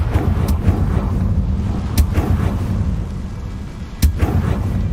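A spell in the Hogwarts Legacy video game sets off a series of sharp blasts, with two or three crisp bangs cracking out over a low, rumbling bed of game ambience.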